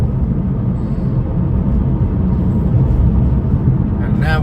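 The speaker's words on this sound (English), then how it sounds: "Foot down on the gas." A car pulls away on a suburban road, its engine a loud, steady low rumble under the driver's voice.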